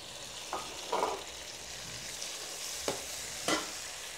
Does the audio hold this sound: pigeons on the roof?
no